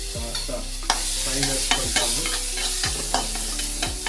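Tomato going into a pan of frying curry leaves, with a loud continuous sizzle and repeated scraping stirs every half second or so, close up and with no voices.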